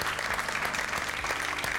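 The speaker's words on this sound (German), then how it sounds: "Applaus." Studio audience at a late-night television talk show applauds in a loud, continuous wash of clapping that runs throughout, with no voices over it.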